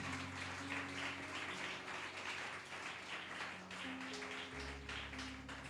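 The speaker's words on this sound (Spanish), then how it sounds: "Denle fuerte aplauso al Rey." A church congregation applauds at a worship service, steady sustained clapping filling the room with music and sustained tones underneath, no clear talk over it.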